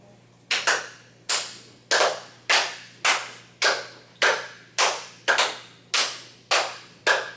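Hands clap in sharp, evenly spaced slaps during a classroom game, about a dozen in a row, loud and close in a quiet room with a faint hum behind them and no talking.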